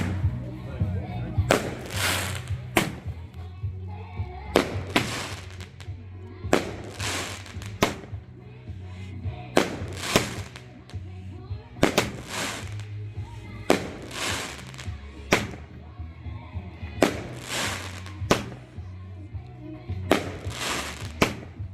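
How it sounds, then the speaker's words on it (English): A Bonfire Night fireworks display pops and crackles in about nine separate bursts at fairly regular intervals, each a sharp bang trailing into crackle. People talk in the background between the bursts. "Aye, what a nice firework display, yeah."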